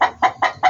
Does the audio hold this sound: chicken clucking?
yes